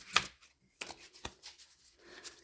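Tarot cards being shuffled by hand, a sharp riffling burst near the start followed by softer intermittent shuffles and card slaps, close and fairly quiet.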